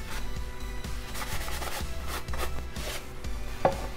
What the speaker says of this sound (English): So then I just use a shop towel and we'll rub it off.